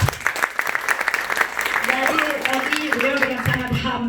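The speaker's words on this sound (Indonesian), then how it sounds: "Boleh tepuk tangan." Audience applause breaks out at a company sharing session, with dense clapping filling the room while a voice speaks over it toward the end.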